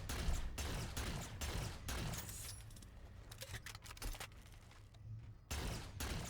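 A Phantom turret fires in Halo 4, sending out rapid bursts of heavy gunfire, loud and close, broken by short pauses and a sharp metallic clatter.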